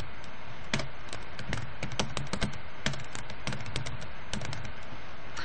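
Someone types on a computer keyboard while entering data into an Excel spreadsheet, producing crisp, irregular key clicks in quick bursts with short pauses, close and clear, and no one speaks.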